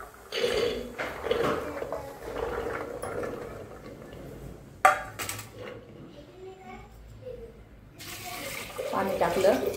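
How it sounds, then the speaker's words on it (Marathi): Water runs and splashes into a cooking pot for boiling chickpeas, coming in several close bursts with short pauses between them, and a strong gush at the end. Faint voices can be heard in the background. "पाणी टाकलं."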